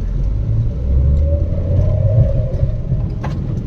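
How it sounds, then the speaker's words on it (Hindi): An automatic Maruti Wagon R with an AGS gearbox pulls forward under light throttle, giving a low, steady engine rumble from inside the car that swells slightly as it accelerates. "ये देखिए थोड़ा सा अगर हम एक्सीलेटर प्रेस करते हैं"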